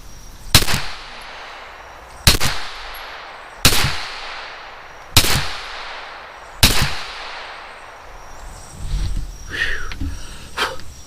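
A gun fitted with a red and green dot tube sight fires five sharp, loud shots at even intervals of about a second and a half, each with a ringing outdoor echo, followed by faint rustling.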